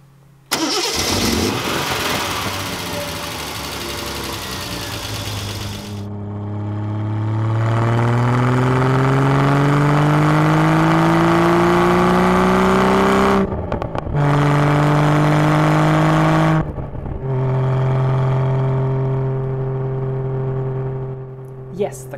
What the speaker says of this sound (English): Yes, the car started again, even though it was very hot that day.